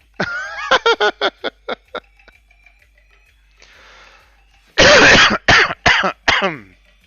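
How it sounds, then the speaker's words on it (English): Loud bursts of repeated coughing, close up: a rapid run of short coughs, a breathy pause, then another harsh, heavy cluster of coughs. "The more I talk, the more I cough."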